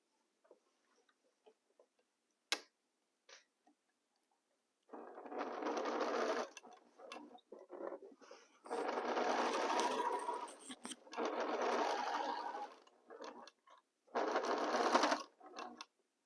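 Sewing machine stitching fabric, its motor running in several steady bursts of a few seconds each with short pauses between, close and moderately loud, with a few small clicks and handling taps before the stitching starts.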